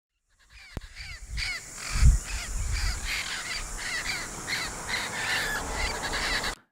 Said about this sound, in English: These were some parrots that were on like a electric line.